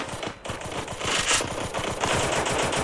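Rapid automatic gunfire from the video game Free Fire, dense repeated bursts of shots firing loudly and continuously with no pauses.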